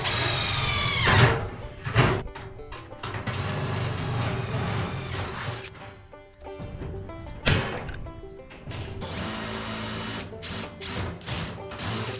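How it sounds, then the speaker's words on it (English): Power drill driving self-tapping screws into a steel barrel being built into a wood-fire smoker: several bursts of whining motor, sharp metallic knocks and clatter, with pauses between runs, close and fairly loud, no talk. "I'm going to throw a couple self-tapping screws through that just to kind of hold it in place."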